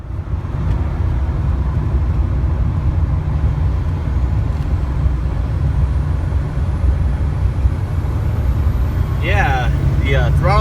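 Duramax diesel pickup truck driving after a fuel fitting modification, a loud steady low engine drone and road rumble heard from the cab, with a voice speaking briefly near the end.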